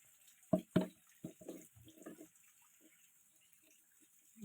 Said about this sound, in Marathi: आता हे पाणी गाळून टाकते